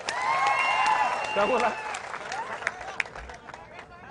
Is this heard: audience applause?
yes